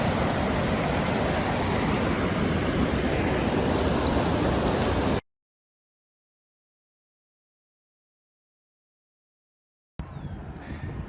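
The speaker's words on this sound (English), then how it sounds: "Listen, those little waves, sometimes they get up to like 2 or 3 feet high" Small sea waves lapping in a bay wash steadily in a broad, continuous rush, cut off by a stretch of silence before the surf sound returns briefly at the end.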